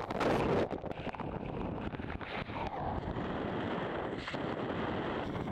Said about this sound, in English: it's wet and it's windy